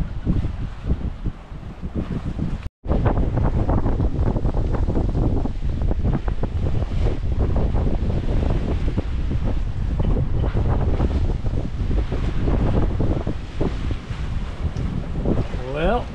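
A sailboat heading home from Beaver Island runs through wind and waves. Loud, constant wind rumble buffets the microphone over rushing water, with a voice faintly present.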